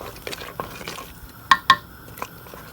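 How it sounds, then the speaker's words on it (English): Lamb meat stirred in a clay pot with a utensil, giving scraping and shuffling sounds and two sharp knocks against the pot, close up with faint background sizzle. "Quite hard to move all your meat in this clay pot."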